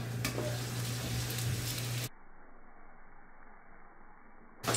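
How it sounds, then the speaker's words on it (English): Bannock dough frying in hot grease on a stove top, a steady close hiss and crackle of sizzling oil, continuous and fairly even, with no talk over it. "So now it's just a matter of getting it into the hot grease."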